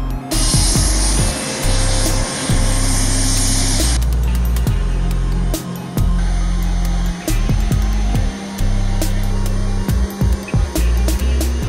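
C-130 aircraft engines running loudly and close, a steady propeller drone with a high whine that shifts partway through, over constant heavy rumble.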